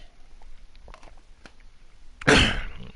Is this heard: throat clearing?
yes